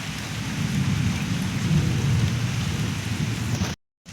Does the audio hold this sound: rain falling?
yes